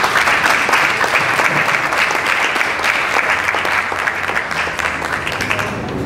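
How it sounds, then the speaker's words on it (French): Steady applause from a crowd, dense and loud throughout, fading slightly toward the end. "Est-ce qu'on peut l'applaudir?"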